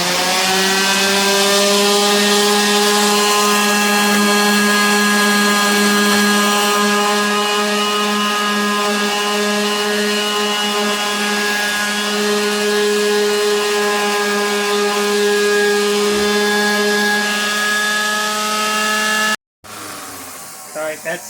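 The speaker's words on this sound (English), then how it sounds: "So I'm just going to sand this a little bit. I put 120 on here." A power sander with 120-grit paper works over plywood, a loud, steady humming whine that holds almost unchanged before cutting off abruptly near the end.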